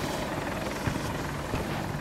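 An attack helicopter, a Hokum in the Battlefield 2042 video game, gives off a loud, steady rotor and engine roar that fills the whole stretch without a break.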